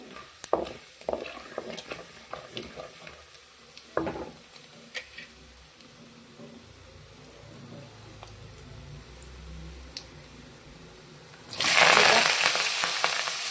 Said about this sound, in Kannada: ಸ್ವಲ್ಪ ಉದ್ದಿನ ಬೇಳೆ ಸ್ವಲ್ಪ ಫ್ರೈ ಆಗಲಿ ಇದು